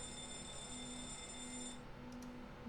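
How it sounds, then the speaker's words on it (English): A fire alarm tested in a Boeing 767-300ER flight simulator game rings as a steady tonal alarm with a faint bell-like repeating pattern, quiet and alone, cutting off near the end. "Let's check the fire alarm."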